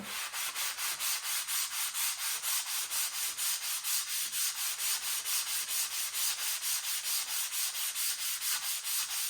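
A surface is scrubbed by hand with cleaning paste in quick, regular back-and-forth strokes, each swipe giving a close, loud, gritty rasp. The strokes repeat in a fast steady rhythm with no voices.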